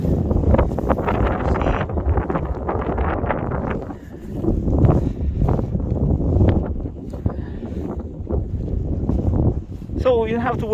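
Wind blows across open terrain where a grass wildfire is spreading, making steady gusty buffeting and rumble against the microphone, with a speaking voice running through much of it.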